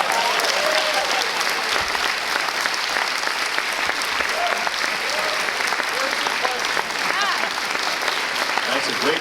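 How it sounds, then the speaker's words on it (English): Theatre audience applauding the cast of the musical Kinky Boots, a steady dense wash of clapping from a large crowd that holds through the whole stretch without a break. "A nice round of applause for our cast members who came here and for the show."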